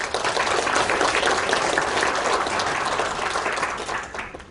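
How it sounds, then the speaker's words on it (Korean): A National Assembly forum audience applauds in a steady, full wash of clapping that holds for several seconds and then fades out, with no talk over it. "한번 여러분 박수"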